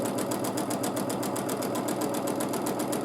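Sewing machine running at a constant needle speed during free motion quilting with a ruler foot, a steady rapid mechanical chatter of evenly spaced stitches, close and continuous with no talk.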